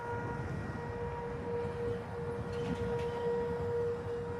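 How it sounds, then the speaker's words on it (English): Tornado warning sirens wail steadily in Evansville, a long sustained civil-defense tone holding a fairly even pitch, heard from a distance over a low rumbling background with no one speaking. "here's the tornado sirens going off."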